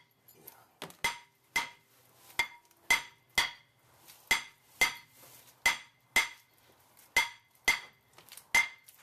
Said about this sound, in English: I had to persuade it off with a hammer whilst turning the disc